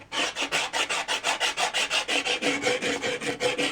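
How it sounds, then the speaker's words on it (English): Rhythmic rasping strokes of paint being scraped off a 1963 Ludwig bass drum hoop, about four even strokes per second, close and steady with no talking. "And then I just scrape away at it."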